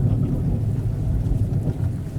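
A thunderstorm sound effect in a Hindi horror story rumbles as a loud, steady, low roar of thunder and heavy rain, alone without any talking.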